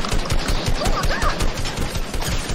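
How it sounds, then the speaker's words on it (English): Rapid gunfire in the video game Fortnite, a dense, continuous burst of shots with crashing impacts filling the short stretch, loud and close. "Who was shooting at me?"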